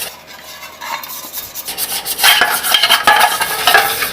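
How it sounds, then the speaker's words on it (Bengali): Oil being rubbed over the inside of a cake tin by brush or hand, a close scraping, swishing rub that starts soft and grows louder and denser in the second half, with no voices. "সাদা তেলে এটাকে গ্রিজ করে নিতে হবে ভালো করে"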